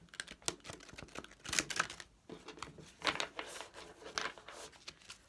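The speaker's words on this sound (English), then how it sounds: "I'm just going to give these a shuffle" Tarot cards shuffled by hand in a dry, rapid rhythm, with bursts of riffling and flicking between brief pauses, close and fairly quiet.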